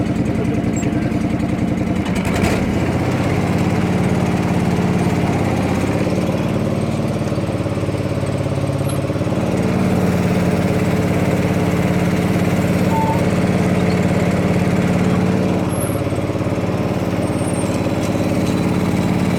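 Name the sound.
John Deere 445 lawn tractor engine running while testing hydraulics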